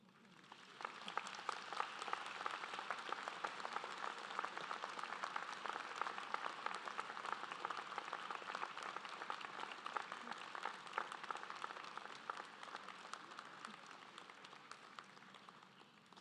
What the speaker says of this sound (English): So now would be a good time to stand and applaud all who have helped you to get to this point.